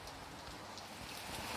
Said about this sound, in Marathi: अजून पण पाऊस चालू आहे